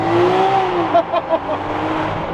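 A supercar engine revving with its exhaust valves closed, a steady loud drone with a few sharp throttle blips in the middle, close by.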